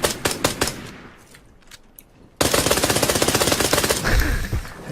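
Glock 18 automatic pistol fire in a first-person shooter game: a few sharp shots, a quieter pause, then a loud sustained rapid-fire burst with shots in a fast, even rhythm.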